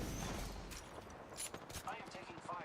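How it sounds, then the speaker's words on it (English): Rapid bursts of automatic gunfire from the video game Apex Legends crackle through a busy, fairly faint mix, with a voice talking over parts of it. "I am taking fire, friends."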